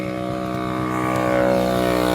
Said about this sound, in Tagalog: patayin ko muna yung makina